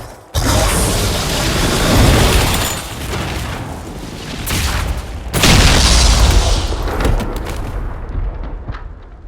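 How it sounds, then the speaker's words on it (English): A massive explosion in the game Dragon Age: Inquisition, a loud roaring boom that rumbles on, fades briefly, then surges into a second heavy blast before trailing off into crackling debris. "Big explosion."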